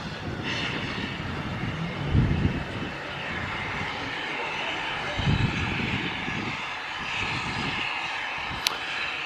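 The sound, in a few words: diesel locomotive at the back of a Santa train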